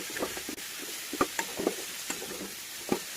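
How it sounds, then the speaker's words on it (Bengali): Chopped brinjal sizzles in hot oil while a spoon stirs it, giving a continuous fry hiss broken by scattered clacks and scrapes against the pan. "তেল ছেড়ে দিয়েছে, এখন কাটা বেগুনগুলো দিয়ে দিলাম, দিয়ে ভালো করে আমি মিক্স করে নিচ্ছি।"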